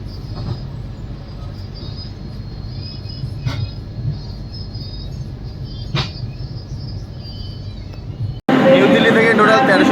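Tejas Rajdhani Express rolling slowly into Mumbai Central station: a steady low rumble of the train with a couple of sharp clanks, then an abrupt switch to a louder, busier platform-like din.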